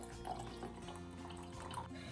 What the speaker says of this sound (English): just pour it into my glass